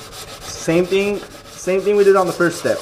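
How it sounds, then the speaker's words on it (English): Primer is hand-sanded with 220-grit sandpaper on a custom iPad car dash, giving short rubbing strokes while someone talks over the work. "We're gonna sand it."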